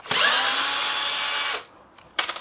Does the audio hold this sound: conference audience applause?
no